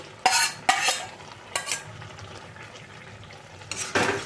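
Fried kachki fish stirred into a simmering curry in a pan: several distinct scraping, clattering strokes of the spoon over a low bubbling sizzle, close and fairly loud.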